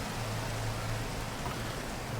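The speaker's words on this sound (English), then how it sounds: "Hello, rain." Steady rain falls in the video game Minecraft, a soft, even hiss of raindrops that stays constant and fairly quiet throughout, with no voices.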